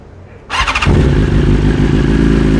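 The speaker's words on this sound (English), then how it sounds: "Hopefully it just starts now and has a nice idle at about 1800 RPM." A 2023 BMW S 1000 RR motorcycle engine with a freshly flashed ECU cranks and catches, then settles into a loud, steady idle around 1800 RPM with a rough, throbbing rumble close by.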